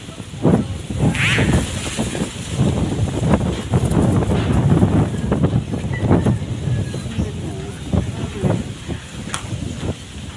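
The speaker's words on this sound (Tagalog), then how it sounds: "Lakas ng hangin." Strong typhoon wind gusts through an outdoor street in Laguna, roaring and buffeting the microphone in loud, uneven surges, with a voice briefly audible in the mix.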